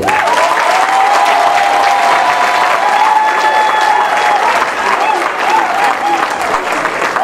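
A crowd of supporters at a diaspora thank-you speech applauds loudly and steadily, with continuous dense clapping and scattered cheers filling the whole stretch.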